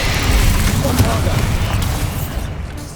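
A Bombardo spell explosion from Hogwarts Legacy gives a loud, low, rumbling blast that fills the whole clip with dense boom and debris noise. It stays heavy throughout and fades slightly near the end.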